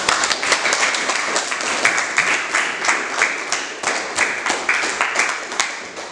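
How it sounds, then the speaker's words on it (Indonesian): Classroom students clap for a classmate, a lively ragged burst of many hands with distinct individual claps pulsing in quick rhythm, fairly close and loud. "Kasih tepuk tangan dulu untuk teman-teman."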